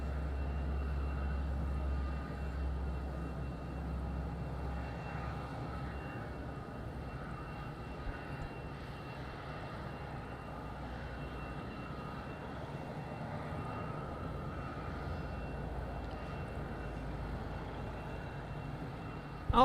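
A steady low rumble of an airplane landing at Madeira Island Airport carries from a distance, holding an even droning level for the whole stretch without distinct peaks, and no one speaks.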